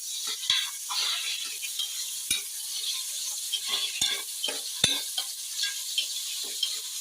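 Onions fry in oil for mushroom biryani, giving a bright, constant sizzle close by, punctuated by a handful of sharp metallic taps and scrapes of the spatula against the pan, with no speech.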